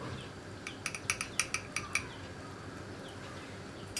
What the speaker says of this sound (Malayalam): നന്നായിട്ടൊന്ന് ഇളക്കി കൊടുക്കട്ടെ.